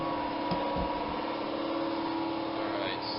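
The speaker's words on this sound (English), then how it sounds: "Air compressor's running in the background." An air compressor drones steadily in the background of a workshop where a smoker is being built, a continuous loud hum with a faint voice briefly underneath.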